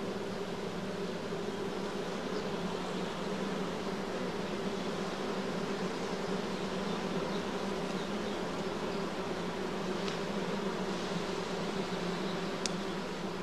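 Honeybees hum in a continuous, even drone, a dense swarm-like buzz held at a steady level throughout with no voices.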